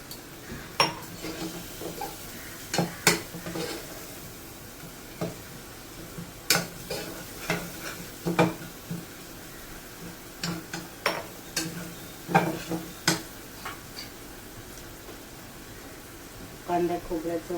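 Turmeric and masala are dry-roasted in a pan while being stirred, with scattered scrapes and light spoon clicks against the metal over quiet background hiss.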